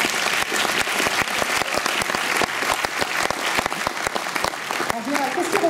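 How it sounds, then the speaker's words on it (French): An audience applauds at a French army youth prize ceremony, with dense, steady clapping continuing throughout and a few voices mixing in near the end. "Applaudissez-le bien fort."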